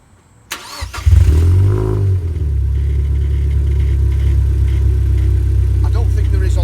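A supercharged Mazda MX5 cranks and fires up close by, its engine catching with a loud burst and settling into a steady, strong idle.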